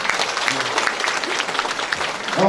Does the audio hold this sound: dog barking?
no